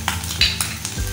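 Beef masala boti with black pepper, white pepper, salt and red chilli sizzles in a pan, a steady close frying hiss with quick scraping stirs.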